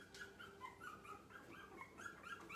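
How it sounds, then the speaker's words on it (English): Puppies next door whimper and yip for food in a busy overlapping chorus of high, wavering whines, fairly faint and steady throughout with no talking. "We have puppies next door. They'd like their second breakfast."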